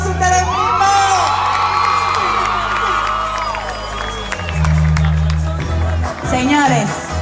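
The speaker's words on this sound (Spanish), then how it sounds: "Un aplauso a ustedes mismos." A festival crowd cheers, whoops and shouts loudly over pounding music, with scattered applause throughout and the roar swelling again near the end.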